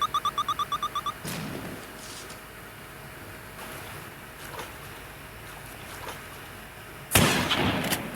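In the horror video game Granny, a weapon fires two sharp, loud shots several seconds apart, after a quick run of rapid electronic beeps, over a low ambient in-game hum.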